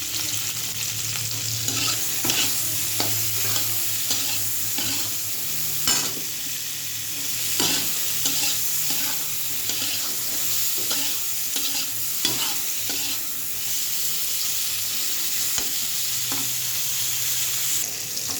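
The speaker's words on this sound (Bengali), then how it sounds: "ফুলকপিটা ভাজা।" Cauliflower fries in a pan with a little turmeric, a continuous close sizzle broken by regular scraping stirs of a spatula, with no talking.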